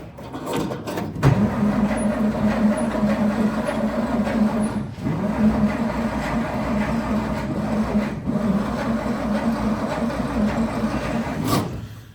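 A 1943 Dodge weapons carrier engine cranks on its push-button starter, a loud continuous mechanical churning that runs steadily for several seconds without catching, ending in a brief pause and a sharp click.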